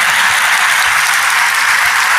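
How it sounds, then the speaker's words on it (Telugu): An audience clapping inside a church, a dense, loud burst of applause that holds steady for a couple of seconds with no voices. "చప్పట్లు కొడుతున్నారు"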